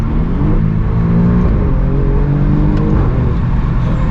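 A powerful car accelerates hard on a bumpy highway, heard from inside as a loud, steady engine roar with rising harmonic tones as it gains speed, continuous and close for the whole stretch.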